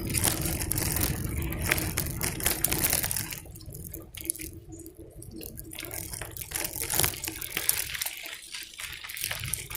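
A vehicle fords a creek near woods, water splashing and churning under the tires with crunching of gravel, steady and close for the full stretch.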